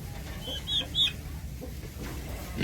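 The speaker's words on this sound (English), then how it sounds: "I've never had a chicken ride around on my shoulder." A rescue hen makes a few soft, short clucks and murmurs at close range over a low, steady background hum.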